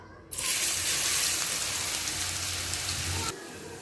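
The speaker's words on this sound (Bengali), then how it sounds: "এবার কেটে রাখা আমগুলো দিয়ে দিব তেলের ভিতর" Cut raw mango pieces dropped into hot oil for pickle, bursting into a loud, dense sizzle that holds steady for about three seconds and then cuts off abruptly.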